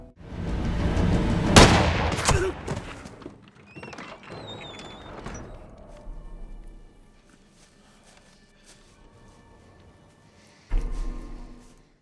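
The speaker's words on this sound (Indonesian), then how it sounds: "Dia menyuruh Miguel berperan sebagai roamer untuk mengalihkan perhatian dengan menembakkan pistolnya." Pistol gunshots in an action movie scene about a cartel fight, a cluster of loud cracks and booms early on, then quieter movement and a final sharp shot near the end, mixed with film sound effects.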